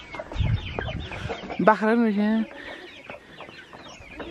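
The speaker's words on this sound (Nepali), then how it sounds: "खै त नि के कताबाट पसेको यो कुखुरा चाहिँ" Village chickens cluck in a few short, nearby bursts at a rural home, with a louder drawn-out call in the middle and people chatting over and around them.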